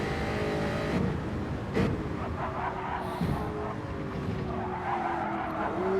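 Race car tires squeal and skid under late braking in a GT3 racing video game at Daytona, with a steady engine drone and sharp skid bursts over a continuous bed.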